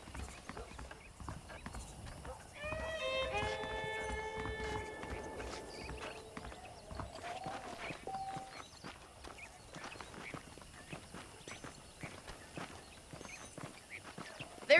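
Horse hooves clip-clop steadily in the video game Red Dead Redemption, with a clear whinny near the start and a rhythmic walking beat continuing over quiet ambient background.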